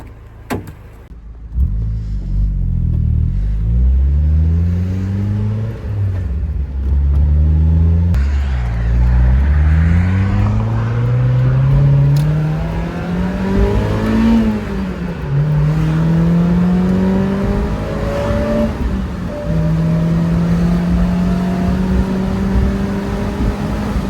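A budget beginner drift car engine revs and pulls through repeated rising gear sweeps while driving, loud and close, with shifts breaking the climbing tone over about twenty seconds.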